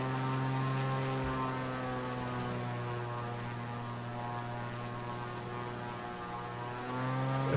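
Steady propeller aircraft engine drone in PUBG, a loud sustained hum with stacked harmonics holding evenly throughout, swelling slightly near the end.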